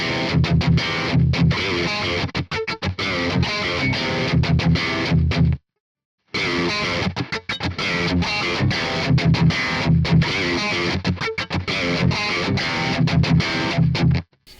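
Heavily distorted electric guitar rhythm riffs played through a Nano Cortex capture of a Neural DSP plugin, with chugging palm-muted chords and tight stops, loud and continuous apart from one short silent break midway.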